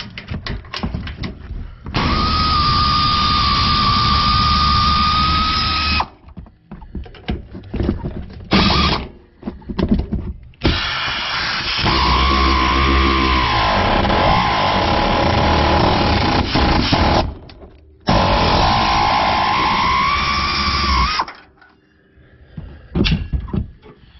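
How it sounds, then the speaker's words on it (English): Air ratchet removing the upper nuts of a leveling kit on a 2010 Ford F-150 FX4, with loud close bursts of rapid whirring and ratcheting several seconds long, separated by short pauses and clanks. "And what I'm going to use is a ratchet, air ratchet rather."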